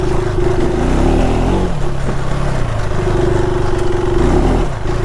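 A 2026 KTM 390 Adventure R revs hard in deep snow with its rear wheel spinning, a loud, close, sustained engine drone with slight pitch changes and no talk.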